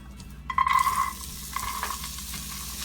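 Cut beans tipped into a hot frying pan of oil with popped mustard seeds and asafoetida, setting off a steady close sizzle that flares loudly at first and then settles into continuous frying with light stirring, no talking.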